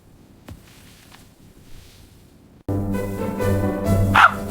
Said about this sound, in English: Not the dog again!